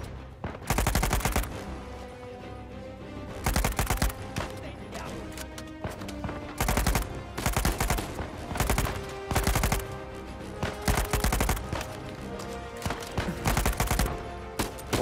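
Bursts of rapid gunfire ring out in Uncharted 4 during an Italy level, loud repeated volleys of automatic shots spaced every second or two across the whole stretch, with no voice over them.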